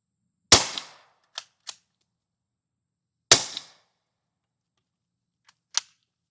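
Two suppressed gunshots through a Polo 30 suppressor can, each a sharp close crack with a short decay, followed by small metallic clicks and a brief snap near the end, in otherwise quiet surroundings.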